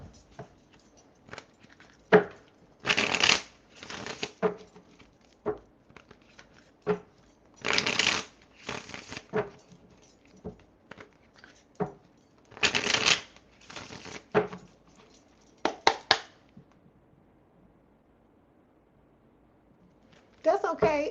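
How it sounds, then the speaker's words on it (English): A deck of tarot cards being riffled and bridged in several quick bursts, separated by quieter handling and occasional soft talk nearby. "I want to make sure I shuffle these cards really well."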